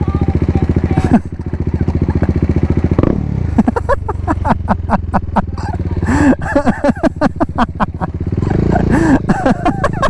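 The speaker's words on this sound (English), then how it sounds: "That's the first time I've scared a kid like that with my exhaust" A BMW G310R motorcycle engine idles with a loud, rapid thumping, then revs in sharp bursts with crackling exhaust pops; voices are faintly present.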